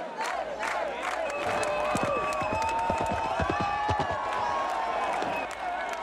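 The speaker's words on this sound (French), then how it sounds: "À chaque tentative, la foule encourage les cavaliers." A festival crowd cheers and shouts as riders charge at an equestrian ring-lance joust, a dense, sustained roar with scattered hoofbeats and clatter underneath.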